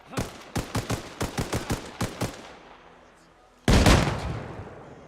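A rapid string of sharp gunshots in the Arma Reforger military shooter gives way to a sudden loud frag grenade blast, which booms and slowly trails off.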